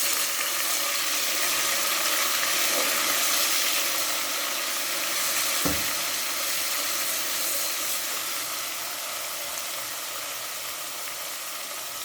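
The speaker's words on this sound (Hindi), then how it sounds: "इसको हम थोड़ा फ्राई करते हैं।" Ginger-garlic paste ground with green chili fries in a pan for a dhaba-style moong dal, giving a steady, even broadband hiss that holds throughout, with one brief knock midway and no talking.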